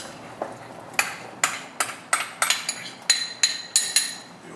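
Pumpkin pieces dropped one after another into a pot of cooked potato for soup, giving about ten sharp, evenly spaced clinks and thuds close by, with no talking.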